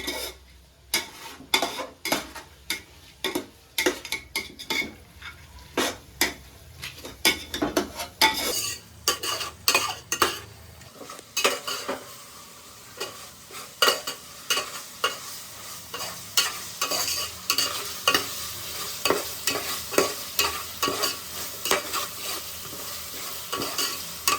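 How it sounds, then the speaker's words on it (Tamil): Ginger garlic paste sizzles in a pan for vegetable biryani while a spoon stirs it steadily, scraping the metal in quick repeated strokes over a constant frying hiss, close and clear with no talking. "அடிப்பிடிக்கும் இஞ்சி பூண்டு பேஸ்ட். ஸோ நீங்கள் வந்து கைவிடாமல் கிளறிடணும்"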